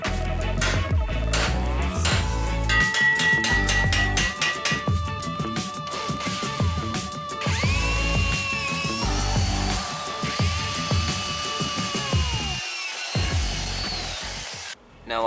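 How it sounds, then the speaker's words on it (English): A power drill runs almost continuously, its motor pitch rising and falling as a 3/16 inch bit bores holes in shin armor, loud and close, ending abruptly. "that's what I'm going to use to drill these two holes"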